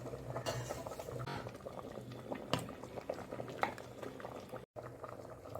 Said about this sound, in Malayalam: അപ്പോൾ ഇതാ തക്കാളി ഇട്ടിട്ട് ഇവിടെ നല്ലപോലെ തിളച്ചു